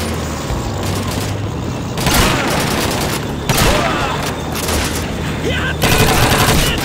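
Dense battle gunfire in Call of Duty 2 in Northern Egypt, a steady loud barrage of overlapping shots and booms lasting several seconds.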